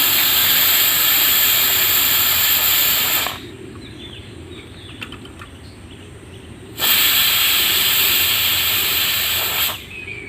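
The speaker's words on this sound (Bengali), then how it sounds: "এই দেখুন কত ঘন ঘন সিটি মারছে।" A pressure cooker cooking rice whistles with loud, steady hissing steam blasts. A long release is followed by a quieter gap, then another strong burst, close and continuous.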